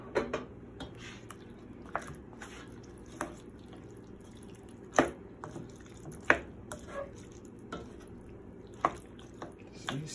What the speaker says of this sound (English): And I'm gonna stir.